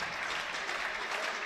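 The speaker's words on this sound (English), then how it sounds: "the crowd going nuts there." Spectators at a 10-meter air rifle mixed team European Championship final applaud and cheer in a dense, continuous burst of clapping, steady and fairly loud throughout.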